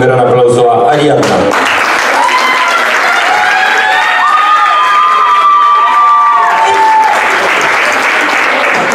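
Audience applause and cheering greet a performer taking the stage at a concert in José C. Paz. The loud, dense crowd clapping runs throughout, with shouts and a musical tone near the start.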